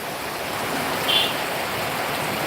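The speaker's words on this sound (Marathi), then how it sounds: "आज सर्वदूर असा हा पाऊस लागताना आपल्याला पाहायला मिळतोय" Steady, even hiss of unseasonal rain falling in Mahad, continuous and moderately loud throughout with no voices.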